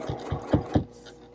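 A sewing machine stitching binding onto a quilt gives four quick, low mechanical thumps in an uneven run, then quiets to a faint hum.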